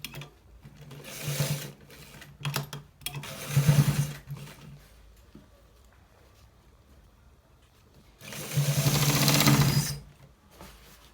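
A sewing machine stitches a designer shirt collar in three loud, whirring bursts separated by quiet pauses, the last burst long and steady.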